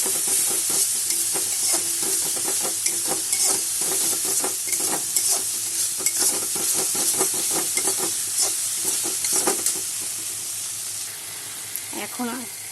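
Spices, chili powder, turmeric and a little sugar stir-fried together in a hot pan for Bengali ghugni, giving a steady close sizzle with scraping stirs throughout that fades a little near the end.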